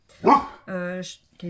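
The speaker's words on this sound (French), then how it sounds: "Kaiser, c'est mon chien" Kaiser, a dog, gives a single close bark, and a person speaks right after it.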